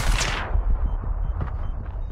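Rapid gunfire from an AK rifle and other weapons in a team shooter match, a sharp opening burst followed by scattered lighter shots and thumps, fairly close and steady, with no voices.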